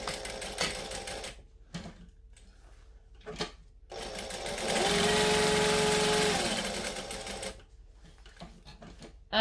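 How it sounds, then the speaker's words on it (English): A sewing machine stitches a box pattern on fabric in a short continuous run, flanked by a few brief clicks and handling noises, fairly close and quiet, with no talking. "I'm going to stitch that entire box that I just drew, holding on to my tail."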